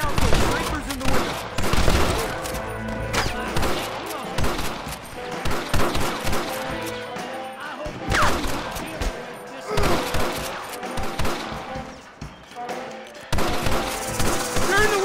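Heavy gunfire from the video game Red Dead Redemption, aimed at snipers in a window, with dense rapid shots and bursts repeating across the whole stretch, loud and close, mixed with game sounds and occasional voices.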